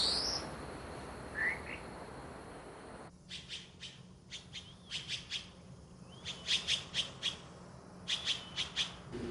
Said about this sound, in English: Insect sounds and bird songs tell of rich ecological resources.